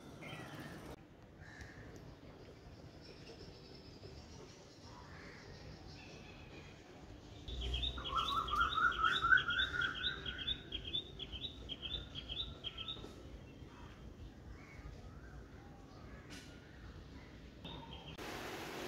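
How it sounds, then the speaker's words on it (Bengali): Morning birds chirp in a quiet home setting: a short burst of bright, repeated tweets in the middle, fairly faint against soft background hiss. "এই যে পাখির ডাকগুলো শোনা যায়"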